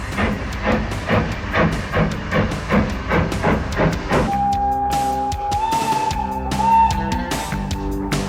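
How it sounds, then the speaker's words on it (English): A steam train pulls out of Haworth station and climbs gently, its exhaust chuffing in a loud regular rhythm, then a drawn-out steam whistle sounds over hissing steam and rolling wheels. "Pulling out of the Haworth station, our train will continue to climb gently."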